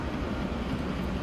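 A train runs in the video game Transport Fever, producing a steady, dense rumble that stays at an even loudness and has no clear breaks over the short stretch.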